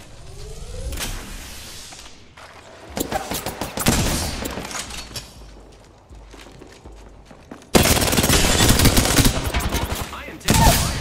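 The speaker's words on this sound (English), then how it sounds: "I am taking fire." Video-game gunfire crackles in loud automatic bursts, with sustained volleys that swell and fade over several seconds and a final sharp burst near the end, alongside scattered footstep-like clatter.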